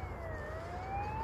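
A police car siren passing outside in New Zealand, a faint, steady wailing tone that slowly rises in pitch over distant traffic rumble.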